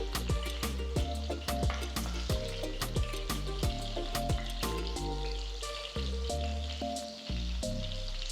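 Peshawari chicken kebabs fry in a pan over a medium-low flame with a steady close sizzle, broken by a regular run of sharp taps and clinks from turning and stirring. No one speaks.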